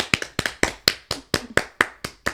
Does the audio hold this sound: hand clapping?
yes